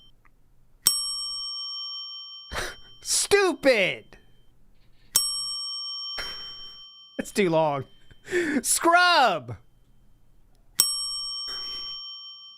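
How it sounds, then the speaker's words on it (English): A small hand bell is struck three times at even intervals, each a bright, clear ding that rings and decays, with someone speaking in the gaps between strikes. "I gotta find my bell."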